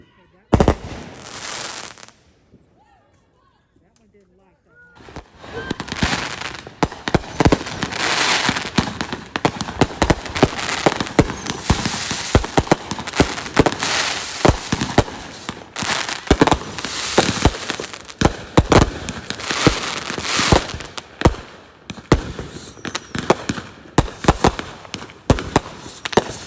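Fireworks exploding at a carnival-themed block party, a long, loud barrage of crackling bursts and sharp pops after a short opening sound and a quiet pause, with voices of the crowd mixed into the noise.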